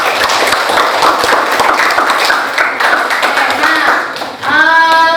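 A classroom of students clapping together, brisk and fairly loud with distinct individual claps, fading near the end as a sustained tone or voice begins.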